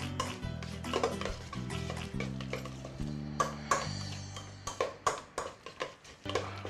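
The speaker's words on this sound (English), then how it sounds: "So we can actually mix them all up." Meatball ingredients are mixed together in a bowl, producing close, uneven scraping and clinking strokes that grow sharper and more regular toward the end, with no voices.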